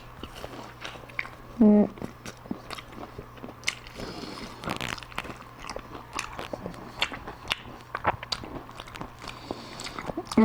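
Homemade ngohiong, a fried roll in a sauce, is eaten close to the microphone with crunchy bites and chewing in irregular bursts, while a voice speaks briefly.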